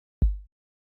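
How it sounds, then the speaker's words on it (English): One deep, booming sub kick drum hit for a seben beat in FL Studio, with a sharp attack and a low tail that fades out within a fraction of a second, then silence. "So then I added another sub kick, which sounds like this."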